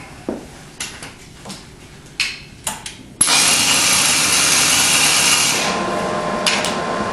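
A MIG welding machine running at 18.8 volts and 156 amps: after a few short taps and clicks, a loud, steady crackling hiss starts and holds for about three seconds, then drops to a quieter tail.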